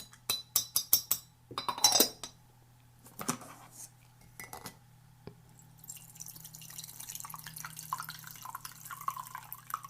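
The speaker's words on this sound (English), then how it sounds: "So let's just give that a stir." A spoon clinks rapidly against a cup of brewed green tea in a quick burst, then gives a few scattered taps. A faint liquid swirl and a low hum follow.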